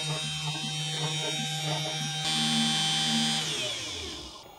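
A SainSmart Genmitsu 4040 Reno CNC router engraving, giving a steady high whine with a shifting tonal pitch as the spindle works, close and continuous, rising slightly midway before trailing off.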